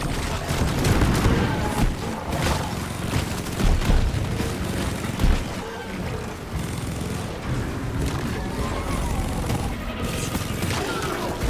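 A grenade explodes and a minigun fires in the video game Deep Rock Galactic, making a dense, loud mix of booms and rapid gunfire that runs continuously, with voices briefly over the combat.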